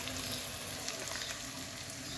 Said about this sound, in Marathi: त्याच्यासकट मिरची बी टाकून हलवून घ्यायची, चांगली भाजून घ्यायची मिरची बी